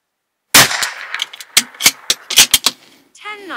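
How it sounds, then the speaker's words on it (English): Winchester T22 .22LR rounds are fired from a Bergara B14R rifle: a rapid string of about seven sharp, close cracks at uneven intervals, followed by a brief voice at the end. "I'm going to start with 10 fowlers, and then I'm going to shoot for groups."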